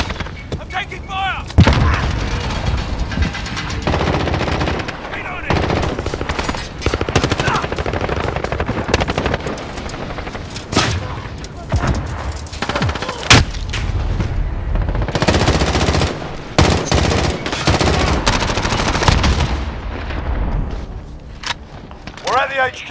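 Call of Duty: Modern Warfare gunfire on a headquarters-style multiplayer map: loud, rapid automatic bursts and sharp single cracks recur throughout, mixed with booming impacts, game callouts and voice chat over a busy battlefield din.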